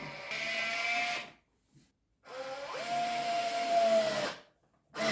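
Small screws being driven by a powered screwdriver into a Livarno Living bedside table from the inside, two sustained whirring bursts separated by a short pause, close and fairly loud, with a third burst starting at the end.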